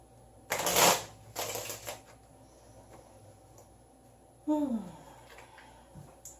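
Cards shuffled for a card reading, two quick riffling bursts close by followed by a softer rustle, with a faint voice-like sound later in a quiet room.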